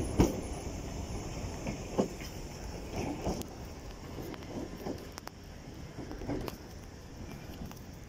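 A London Underground train moving through Cockfosters station, with a steady rumble of wheels on rails, occasional clicks and metallic squeals, heard from the platform at moderate distance.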